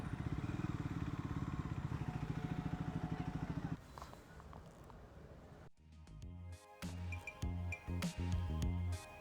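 A Triumph Scrambler 400X motorcycle idles and pulls through stop-start city traffic, a pulsing engine chug at first, then quieter shifting road noise with clatter and short bursts of revving and passing vehicles.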